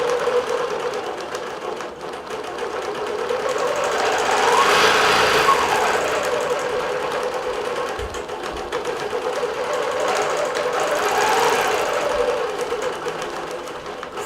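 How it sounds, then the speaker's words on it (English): A digital quilting sewing machine stitches through a single solid piece of fabric with a loud, steady, rapid mechanical whir that swells and eases slightly, with no speech. "the machine is handling the fabric and the thread really well"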